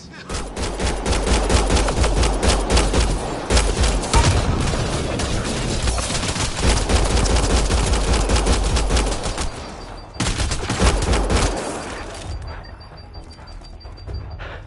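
Video game gunfire erupts in heavy, rapid volleys with deep booming hits, loud and sustained, breaking off briefly near the ten-second mark before resuming and then thinning out.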